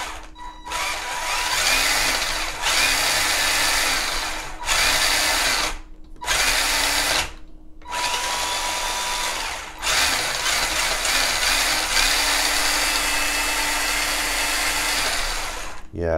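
Electric motor of a 1986 Tamiya Falcon RC car revving under power, a loud whining buzz in repeated bursts with several short cut-offs between runs, close to the microphone and without speech.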